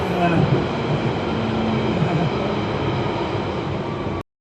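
An Underground train at Barkingside station rumbles steadily and loudly up close, a dense broad roar with faint rail tones, and cuts off abruptly near the end.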